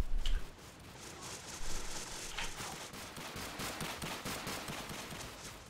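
Enemy gunfire in the indie first-person shooter Frost League: a faint, distant and continuous crackling rattle of shots with no clear gaps.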